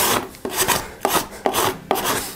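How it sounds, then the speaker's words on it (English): A card scraper rasps across a wood carving to peel off leftover pattern bits, five rhythmic close scraping strokes about half a second apart, with no talk. "I'm gonna grab a card scraper and just slowly peel off all of these little bits and chunks."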